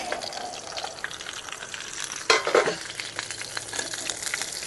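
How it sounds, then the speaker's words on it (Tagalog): Chicken inasal frying in a pan at an outdoor campsite, a steady close sizzle with a brief louder burst of crackling partway through. "Prito lang tayo ng ating inasal."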